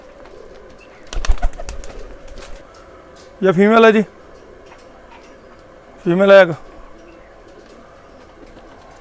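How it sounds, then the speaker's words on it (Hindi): Missay pigeons, a famed Indian breed, give two separate throaty coo bursts a couple of seconds apart, close by, with someone talking over them and a few sharp ticks early on. "ये मेल कबूतर है जी जो मेल डाला हुआ है"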